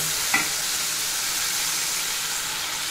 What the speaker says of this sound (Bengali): মশলাটুকু কষিয়ে নেওয়া হয়ে গেল। এবার আমি এর ভিতরে পানি দিয়ে দেব।